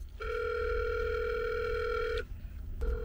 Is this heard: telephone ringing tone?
yes